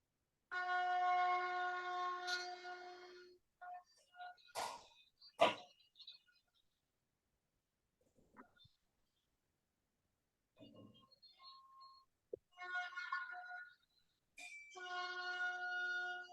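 A conch shell is blown as a ceremonial welcome at a spiritual health gathering, sounding in loud sustained horn-like blasts with strong harmonics, separated by silent gaps and brief clicks and knocks.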